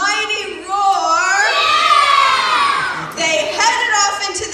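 A group of children lets out a loud, sustained roaring shout in imitation of a mighty roar, a few voices rising and falling together, followed by a brief second burst of shouting.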